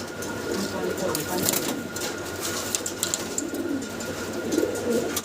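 Jacobin pigeons cooing softly amid a busy, noisy background, with a steady murmur of activity throughout.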